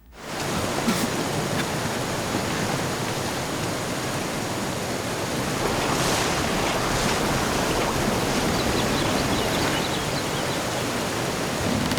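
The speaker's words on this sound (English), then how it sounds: "the river is getting narrow, the water swifter" Swift river water rushing through a narrowing channel after a boat struck a rock, a loud, steady broadband roar that runs unbroken and close throughout with no voices.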